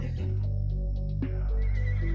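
A horse neighs loudly and close in the video game ARK, a clear whinny standing alone over steady game ambience with no talking.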